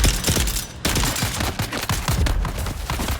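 Sustained loud gunfire in Dune Awakening, a dense run of close shots with only brief breaks, heavy and continuous throughout.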